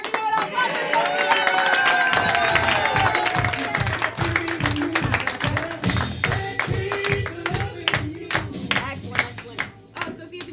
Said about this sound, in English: Clap for Sophia.